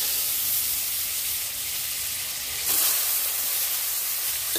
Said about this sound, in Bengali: প্রথমে আলুটা আমি মাছ ভাজার তেলের মধ্যে ভালো করে ভেজে নেব।